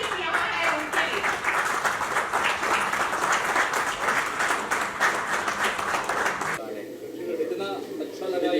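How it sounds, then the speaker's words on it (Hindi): Audience applause for folk artists at an Indian folk art gallery event, dense rhythmic clapping holding steady for several seconds before cutting off abruptly, leaving a quieter background. "तो एक तालियां मैं चाहूंगी आप सब जो आर्टिस्ट यहाँ हैं उनके लिए।"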